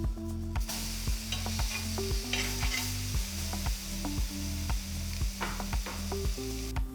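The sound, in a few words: burger patty sizzling in a pan on high heat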